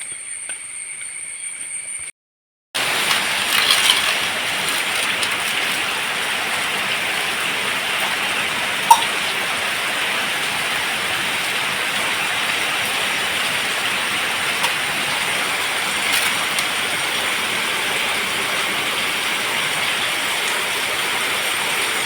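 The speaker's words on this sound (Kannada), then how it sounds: "ಇವಾಗ ಮಳೆ ಬರಲಿಕ್ಕೆ ಸ್ಟಾರ್ಟ್ ಆಯಿತು ಲೈಟಾಗಿತ್ತು" Continuous soft patter of light rain, an even wash of noise that runs without pause after a short quiet gap at the start.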